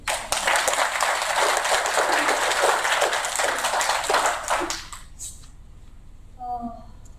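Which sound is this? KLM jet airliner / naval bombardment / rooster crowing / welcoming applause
welcoming applause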